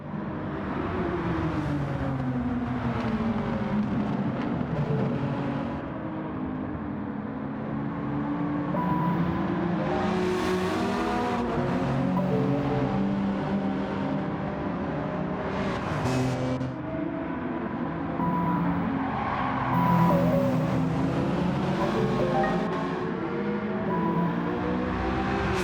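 Race cars, a Subaru among them, roar around the Bathurst circuit in Gran Turismo 7, with steady engine drone and rising and falling revs as cars run close together, loud and continuous with no voices.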